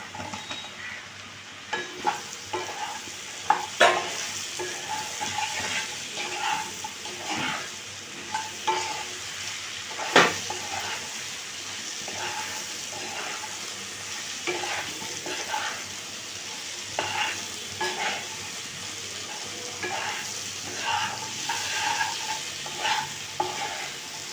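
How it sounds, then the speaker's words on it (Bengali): Chopped snake gourd frying in a pan with onion, a continuous hissing sizzle broken by frequent spatula scrapes and clatters, close and loud, with no speech. "এবার চিচিঙ্গাটা দিয়ে দিচ্ছি"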